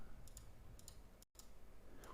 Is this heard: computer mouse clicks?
yes